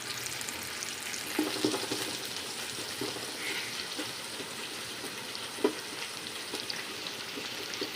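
Onions for mutton biryani sauté in a pan, giving a steady, dense frying hiss heard close throughout, broken by a few soft clicks of stirring; no one speaks.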